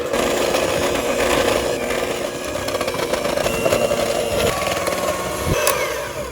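Rusk cake batter churns in a bowl with a steady, continuous motorised whir, moderately loud and unbroken throughout.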